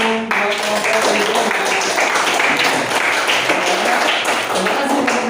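A classroom of students claps after a group presentation on an electrolyte battery that lights a lamp, a loud, close, continuous patter of many hands mixed with voices and chatter.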